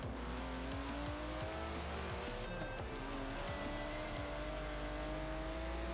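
A car in the racing video game Forza Horizon 4 drives at speed, its engine droning continuously with shifting revs, tire squeal and skidding, loud and steady throughout with no talking.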